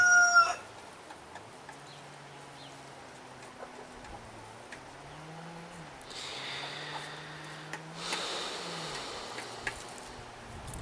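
A bird, apparently a rooster, calls in a series of drawn-out, fairly faint crowing phrases. A short loud burst opens the sequence and harsher noisy bursts come later, with no one talking over it.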